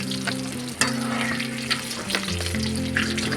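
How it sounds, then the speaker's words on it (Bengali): Pakoras deep-fry in hot oil over a gas flame at an outdoor picnic, a loud continuous sizzle with scattered crackles and pops, steady and close with no talking. "পকোড়া ভাজা শুরু হয়ে গেল।"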